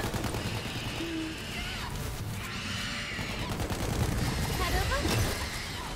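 Rapid gunfire rattles in continuous bursts in Tiny Tina's Wonderlands, loud and chaotic, mixed with other battle noise, and someone talks over it.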